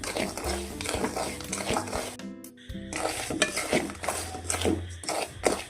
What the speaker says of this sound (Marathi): शेंगदाण्याचा कसा आवाज येतोय